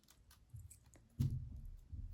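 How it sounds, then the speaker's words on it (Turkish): Scissors slice open metallic raffia cord in a crocheted bag, giving a few soft snips and clicks, with a louder cut near the middle, close and quiet. "Şimdi makasla böyle açıyorum."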